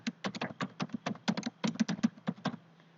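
Keys on a computer keyboard clatter in a close, quick burst of typing with uneven rhythm, including the short presses of copy and paste shortcuts, alone in a quiet room.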